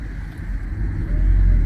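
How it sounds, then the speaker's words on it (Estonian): A car moves off, its low engine rumble and road noise building toward the end as it gets underway, heard from close by. "Elis hakkab autoga sõitma."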